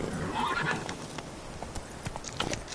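Roach, a horse in the video game The Witcher 3, gallops with a steady clip-clop of hooves and lets out a whinny, all in a busy, continuous game soundscape.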